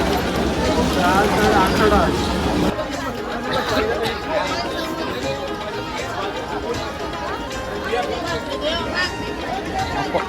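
Dense crowd chatter fills a busy Panvel Koliwada fish market on Gatari night, a steady babble of many voices close around, louder at first and then settling into a continuous hubbub with scattered nearby shouts.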